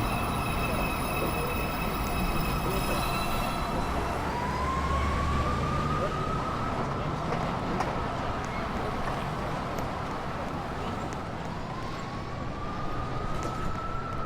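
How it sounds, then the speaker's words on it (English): A New York City subway 2 train pulls into the 207th Street station. A continuous loud rumble and rail noise fill the platform, and a rising whine from the cars is heard more than once. "Uptown Express 2 train. Approaching the station, please stand away from the platform edge."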